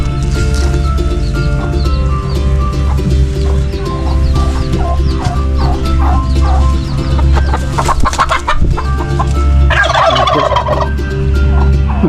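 Chickens in a coop cluck and murmur continuously over a loud, steady low hum, with a sharper squawk rising near the end.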